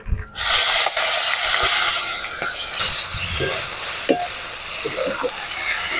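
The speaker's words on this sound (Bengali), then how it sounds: "ব্রোকলি গুলো একটু ভেজে নেব হালকা করে।" Broccoli lightly frying in hot mustard oil in a wok, a loud close sizzle with brief stirring scrapes and pops throughout, no speech.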